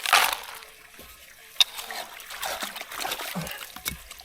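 Water sloshes and trickles as a gold pan is scooped full of wash from a riverbank, with close, irregular splashes and dribbles, one sharp clink, and low outdoor noise.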